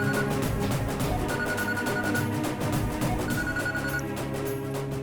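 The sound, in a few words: telephone ringing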